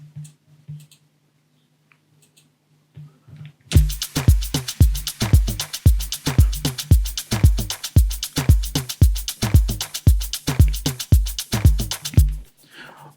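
Electronic drum loop in an Afro house track, a steady four-on-the-floor pattern of punchy kicks with bright hi-hats and clicks, entering after a few quiet seconds and running evenly to an abrupt stop.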